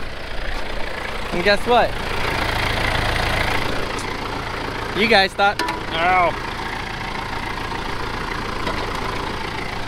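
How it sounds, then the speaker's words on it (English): A farm tractor with a three-point attachment idles steadily in a continuous low rumble beneath a voice talking in short bursts. "You guys thought this tractor was no longer in existence."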